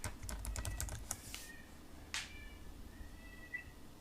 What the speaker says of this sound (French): Tape Google en haut.